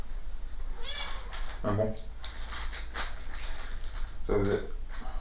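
A cat meows twice, two short distinct calls a few seconds apart, over quiet room noise, with a person speaking briefly.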